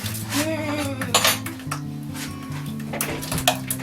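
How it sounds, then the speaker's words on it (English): A mixture is whisked in a bowl during gingerbread house making, giving a rapid, irregular metal-on-bowl clinking and scraping, over a steady background hum. "you whisk it up with a whisk"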